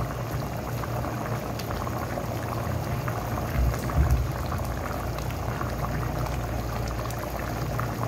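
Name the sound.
water boiling off in a pot of rice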